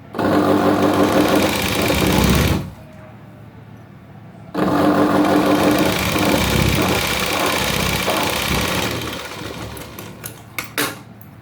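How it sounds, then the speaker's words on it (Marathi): A domestic sewing machine runs two long stitching bursts along the side seam of a V-neck blouse, each a steady close mechanical whir, separated by a short pause, with a few clicks and handling knocks at the end. "या साईडची शिलाई मारून घेते मी"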